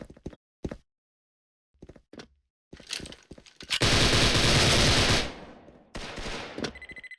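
Gunfire from an A-91 rifle in the online shooter Special Force: scattered short bursts, then a dense sustained volley of rapid shots, then more clipped bursts, loud and close with game sound effects between them.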